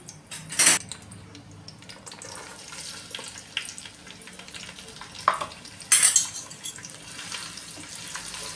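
Onion being sautéed in hot oil with cumin, cloves, dried red chilli, bay leaf and cinnamon for veg pulao, a soft steady sizzle broken by a few scraping stirs and two sharp utensil clinks.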